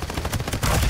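Rapid automatic gunfire in a video game, a loud close burst of shots in quick succession lasting under a second.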